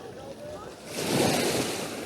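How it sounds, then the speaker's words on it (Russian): Evening sea waves on the beach at Tekirova, with a steady wash of surf that swells into a louder, closer break halfway through, plus some wind noise. "Вот смотрите, какое сегодня море."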